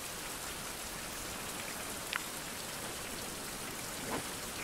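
Steady rain falls in the survival game Fountain of Youth, a dense, even hiss of drops on surfaces throughout, with no voices.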